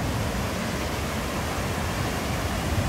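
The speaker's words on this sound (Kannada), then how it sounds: "ಕಲ್ಯಾಣಿ ರೇವು ವಾಟರ್ ಫಾಲ್ಸು ಇದು ಆಂಧ್ರ ಪ್ರದೇಶದ ಚಿತ್ತೂರಲ್ಲಿರೋದು ನೀರು ಫ್ಲೋ ಫುಲ್ ಕಮ್ಮಿ ಆಗಿದೆ" Kalyani Revu waterfall in Chittoor, Andhra Pradesh, running with low water flow, gives a steady broadband rush of falling water, constant and fairly close throughout, with no talk.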